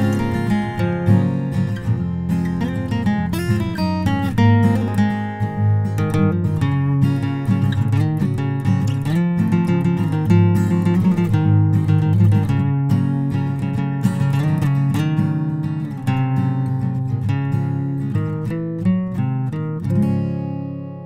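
A guitar lead plays over full backing music, a busy melodic line of plucked notes that carries through and tapers off at the end.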